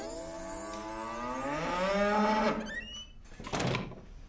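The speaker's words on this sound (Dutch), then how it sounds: "dat loeien van die koeien begint toch snel te vermoeien" A cow moos in a long, loud, rising and falling call close by while cows are being milked on a farm, followed by a shorter second bellow.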